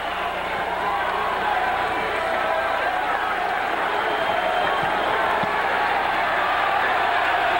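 A boxing crowd at Madison Square Garden roars and cheers in a dense, continuous wash of noise, loud and unbroken throughout.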